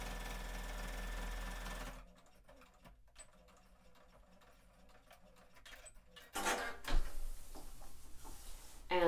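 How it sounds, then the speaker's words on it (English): A sewing machine back stitching a seam on a fabric potato storage bag, with a steady whirring run at the start, a pause of small handling clicks, then the motor starting up again louder. "I'm back stitching just to add strength to the seam."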